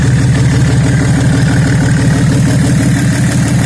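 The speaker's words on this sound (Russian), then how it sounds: "Проверяем сеточку резким газом, если двигатель разгоняется вяло, значит сеточка засорена." A Nissan Laurel C34 with an RD28 diesel engine idles loud and close, a steady rhythmic clatter with low throbbing pulses and no voices.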